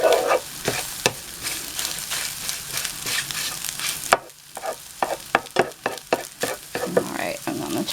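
Eggs fry in a pan for rabbit fried rice, a bright sizzle broken by repeated spatula scrapes and taps that grow sharper and more spaced out after a pause, close and with no voices.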